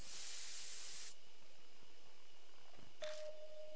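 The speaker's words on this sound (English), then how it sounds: "I take careful aim and spray the drug." A sprayer releases a drug in the video game Death Mark, heard as one loud, bright hiss that cuts off after about a second, leaving a quiet hum, then a brief soft spray burst and a steady electronic tone.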